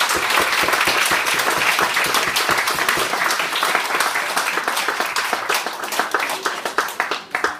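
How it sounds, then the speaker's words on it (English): Enthusiastic applause for an under-9 youth football team at an end-of-season presentation, a dense burst of many hands clapping that thins out near the end. "Round of applause again for the guys, please."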